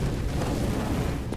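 A flashbang grenade goes off in Counter-Strike, a dense low rumbling blast that fills the short moment with steady loud noise and no voices.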